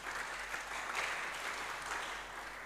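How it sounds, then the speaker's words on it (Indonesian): Congregation clapping during a Sunday worship service at a Pentecostal church, a steady, dense wash of hand claps lasting throughout at moderate distance, with no voices above it. "Beri tepuk tangan bagi Tuhan."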